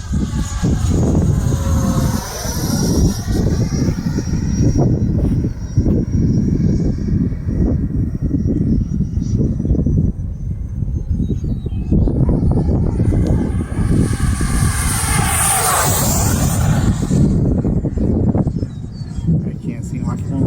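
A Freewing Avanti V2 model jet drones overhead on a very windy day, its whining engine sweeping past and rising again, while heavy wind buffeting roars close to the microphone throughout.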